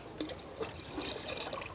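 Water is poured for mixing with goat urine to make compost, giving a soft, uneven splashing and trickling that runs steadily at low volume.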